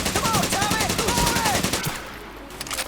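A machine gun in Medal of Honor Pacific Assault fires a rapid sustained burst of evenly spaced shots, loud and close, then cuts off into quieter ambience.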